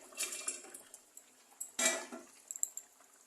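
Pieces of fried katla fish go into a pan of boiled potato and cauliflower curry, making soft clinks and clatter with one louder knock midway, close and fairly quiet, with no talking.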